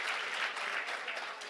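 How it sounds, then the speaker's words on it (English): An audience applauding a speaker at a school technology event, a brief burst of many hands clapping together, fairly close and steady. "Can you all give a round of applause for Sandiso,"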